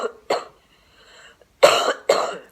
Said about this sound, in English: we just see it with basically a dry cough, which sounds like this.